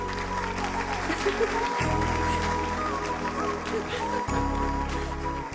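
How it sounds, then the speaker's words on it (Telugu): A classroom full of students claps continuously, sustained applause over a steady background hum. "మన జెసికా మేడం కి క్లాప్స్ కొట్టండి"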